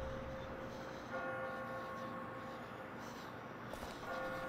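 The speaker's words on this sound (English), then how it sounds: "Who rang the bell, though?" A church bell tolls in The Walking Dead video game, a steady ringing tone sustained across the clip over a low, dense ambient rumble, at moderate distance.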